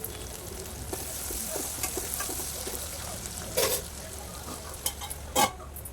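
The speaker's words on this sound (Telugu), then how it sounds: "కరివేపాకు వేసి బాగా వేగనివ్వాలి" Onions, green chillies and curry leaves fry in oil in a kadai with a soft, continuous sizzle, broken by a few sharp clinks and scrapes of a stirring spoon against the pan.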